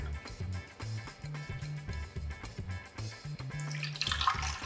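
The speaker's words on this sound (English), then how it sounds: "Then I'm going to add the water." Water poured into the reservoir of a drip coffee machine while brewing two mugs of coffee, a close splashing pour building up near the end over a steady low background hum.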